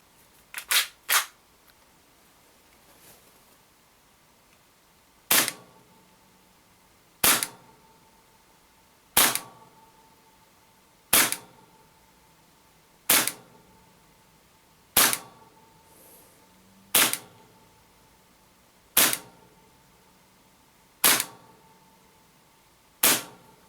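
A Tokyo Marui FN5-7 gas blowback airsoft pistol fires 0.2 gram BBs on green gas over a chronograph. Three quick sharp cracks open the sequence, then single loud snapping shots follow at steady intervals of about two seconds.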